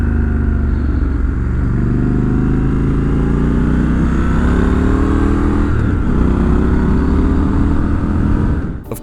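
A Triumph Scrambler 1200 XC motorcycle rides on paved road, its engine droning loud and steady at close range with gradual shifts in pitch as it holds speed, then cutting off abruptly at the end.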